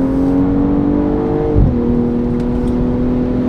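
A BMW M240i xDrive (2022) drives hard out of the Fuchsröhre section on a race track, its engine holding a loud, steady drone that dips briefly at a shift and then pulls strongly again.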